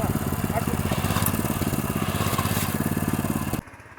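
Tractor ploughing a hillside farm field, a loud, close, chugging engine with a rapid even pulse that runs steadily before cutting off abruptly near the end.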